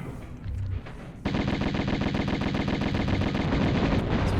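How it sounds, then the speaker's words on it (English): Rapid automatic gunfire in the Tomb Raider video game, a quieter burst at first, then a loud, sustained rattle of shots aimed at enemies that runs on without a break. "we shoot the Skion once again"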